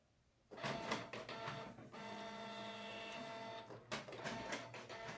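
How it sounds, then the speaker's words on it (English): An inkjet-style printer whirs and clatters as it feeds and prints a test page, with a steady mechanical hum and brief carriage movements, close and loud. "Okay, so the printing is complete."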